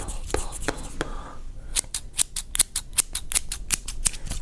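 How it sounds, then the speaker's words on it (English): Small scissors snip hair at the base during a close-up haircut, a quiet whispery stretch first, then a rapid run of crisp, evenly spaced cuts, close and clear. "let's just carefully get the small scissors out now just to trim at the base of it."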